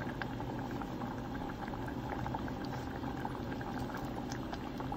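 Cooked mung lentils bubble and simmer in a pan while being sautéed, a constant close-up burbling boil with dense popping bubbles and no talking.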